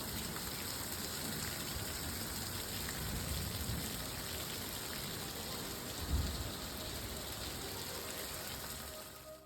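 Rain falls steadily in Rising Star, Texas, a soft, even hiss with low rumbling underneath, distant and faint throughout, swelling slightly for a moment near the end.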